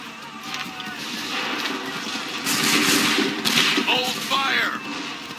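A musket volley in Assassin's Creed 3, set at the 1775 battles of Lexington and Bunker Hill, cracks out as a loud broadband burst midway through, amid a low rumble of battle ambience and shouted commands from soldiers.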